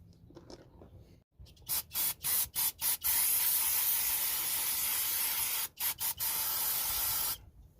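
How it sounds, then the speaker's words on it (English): Brake cleaner sprayed from an aerosol can onto 2005 Toyota Prius parts, including a bearing. A rapid string of short hissing bursts runs into a long steady spray, followed by a few more quick bursts and another sustained hiss, close and loud. "put these in here and spray that with brake cleaner"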